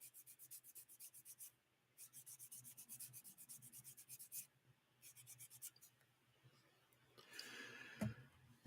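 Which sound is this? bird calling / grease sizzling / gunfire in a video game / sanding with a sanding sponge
sanding with a sanding sponge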